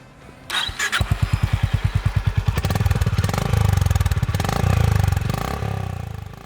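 A 350cc single-cylinder motorcycle is kicked over and fires up, its exhaust thumping in a fast, even beat that swells loud as the engine revs.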